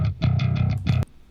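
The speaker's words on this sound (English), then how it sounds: "So what I've used is Amp Hub with an instance here of their emulation of an Ampeg SVT." Clean bass guitar played through an Ampeg SVT amp emulation, a few loud sustained plucked notes in a steady rhythm, then a sharp stop and near silence.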